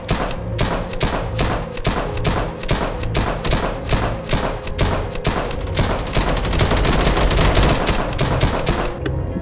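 Rapid rifle fire in a modded Minecraft survival game, a long string of sharp, loud shots at close range in an uneven rhythm that grows denser toward the end, with no talking.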